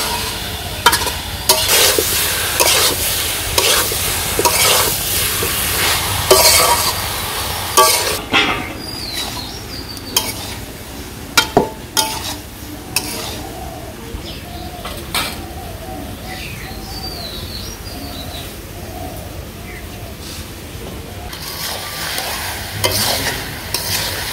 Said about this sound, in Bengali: এখন আবার একটু ভালো করে কষাবো মশলার সাথে সব কিছু